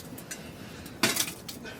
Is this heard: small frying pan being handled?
yes